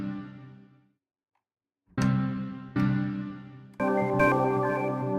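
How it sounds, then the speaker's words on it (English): The Arturia Mega Magic 2 reverb keys keyboard patch plays a few separate chords after a short silence, each one struck sharply and then left to ring out in a long reverb tail. "Mega Magic 2 reverb keys"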